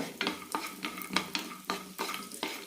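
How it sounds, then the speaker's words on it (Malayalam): Cashew nuts roast in ghee in a pan, with a spoon scraping and stirring in a steady rhythm of about one stroke every half second over a continuous close sizzle. "നന്നായി റോസ്റ്റ് ചെയ്തെടുക്കാം അണ്ടിപ്പരിപ്പൊക്കെ ചോക്കാൻ തുടങ്ങിയിട്ടുണ്ട്"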